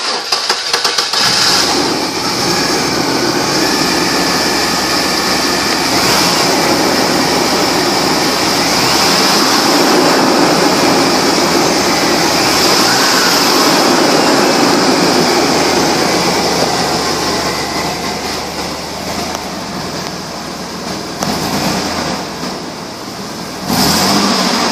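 A 1997 Chevy S10 Blazer engine runs steadily near the microphone for the whole stretch, a loud continuous mid-pitched drone with slight rises as it revs, no one talking.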